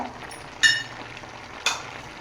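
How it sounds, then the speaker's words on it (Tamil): Chicken cooked with curry masala and chicken masala, stirred in a hot pan: a low, steady sizzle of frying with two brief scraping clinks of the spoon against the pan, fairly quiet and close. "சிக்கன் மசாலா ரெண்டையும் போட்டு நல்லா கிளறி விடுங்க"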